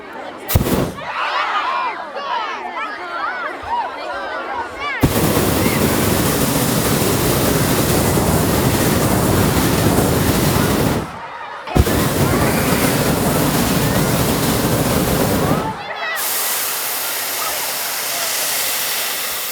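Large propane flame burners putting out 30 million BTUs of heat fire off in long, loud roaring blasts, each lasting several seconds and separated by brief silences, with a short burst at the start.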